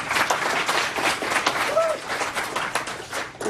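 Audience at a chamber of commerce sales workshop applauding the team, a dense burst of clapping from a room full of people, fairly close and steady, with voices mixed in.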